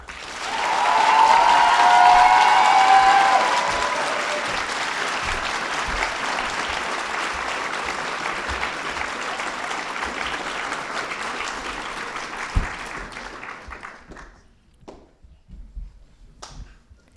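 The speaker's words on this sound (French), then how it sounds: "Je vous demande alors un tonnerre d'applaudissements" A large audience at a student eloquence competition applauds the president of a university student association, a long, dense burst of clapping that starts strong, holds steady for about twelve seconds, then thins out and stops.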